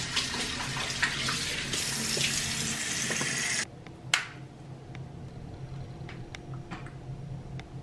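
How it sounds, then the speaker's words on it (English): A tap runs at a bathroom sink as water is splashed onto a face, a steady hiss that cuts off abruptly, followed by faint drips and small clicks in a quiet room. "I wash, just apply some water to my face and then foam up this cleanser"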